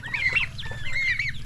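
Farm turkeys give two short, close, rising clucking calls in quick succession over a low ambient rumble.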